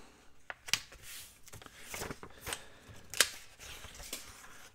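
Large ledger pages are handled and folded in half, making soft papery rustles and crisp creasing swishes, with a couple of sharp paper snaps standing out against quiet surroundings.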